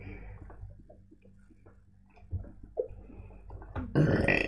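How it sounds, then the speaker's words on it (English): During a burping competition between friends, a child lets out a loud, raspy burp at the end, following a stretch of quieter low gulps and rumbles heard up close. "Are you doing a burping contest?"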